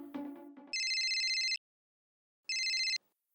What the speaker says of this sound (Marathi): जेठालालच फोन करतो.